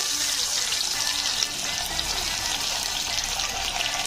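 Onion fries in hot oil as a loud, dense, continuous sizzle and hiss, steady throughout, close up and without voices.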